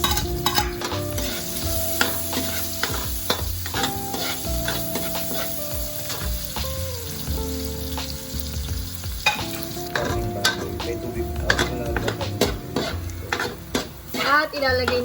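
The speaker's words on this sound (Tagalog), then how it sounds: "ngayon po ay magigisa na po." Onions sautéing in a pan for pancit habhab, with steady frying sizzle and repeated stirring scrapes of a utensil against the pan, close and continuous throughout with no talk.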